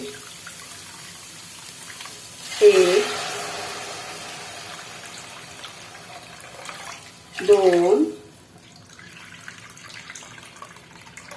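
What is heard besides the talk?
water poured into cooking pot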